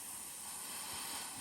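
An airbrush sprays paint onto a fishing lure blank through a stencil, giving a steady, soft, continuous hiss close by with no other sounds.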